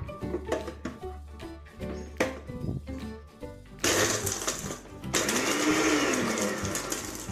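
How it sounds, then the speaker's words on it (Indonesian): A kitchen blender crushes ice cubes while making an Indonesian dish: ice clatters and knocks against the jar, then the motor roars into a loud, sustained grinding whir. "lalu kita blender sampai esnya hancur"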